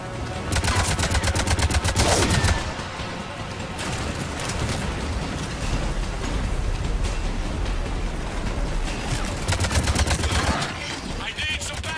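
Rapid gunfire from a firefight in Mass Effect 3: repeated automatic bursts that are loudest at the start and near the end, close and sharp, with game voices talking over the shooting.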